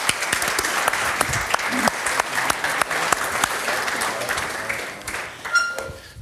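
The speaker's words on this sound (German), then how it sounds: "Vielleicht noch einen Applaus zum Übergang." Audience applause at a university debate event, a fairly dense spread of individual hand claps that holds steady and then thins out toward the end.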